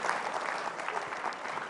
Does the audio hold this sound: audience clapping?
yes